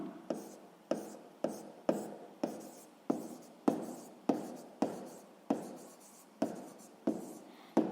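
A pen scratches out an answer during a sixth-grade math exercise, about fourteen short, even strokes in a steady rhythm, close and clear with no talking.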